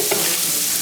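Garlic and capers frying in a hot pan, a dense, steady sizzle that stays loud and even throughout the short moment.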